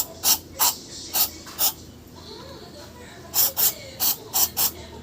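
Repeated short hissing bursts of cleaner sprayed onto a car throttle body, about nine quick spurts in two groups, close and clear over a quiet background.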